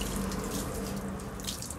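Tap water runs steadily into a sink while a dog is washed outdoors in Jamaica, a continuous splashing wash heard close and alone.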